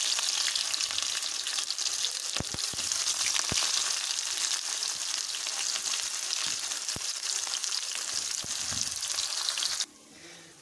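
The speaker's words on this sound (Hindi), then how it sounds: "ऑयल हमारा गर्म हो चुका है। अब हम इसमें प्याज शामिल करेंगे।" Onions fry in hot oil for a mixed vegetable dish, giving a loud, dense, steady sizzle with a few stirring knocks, before it drops away sharply at the end.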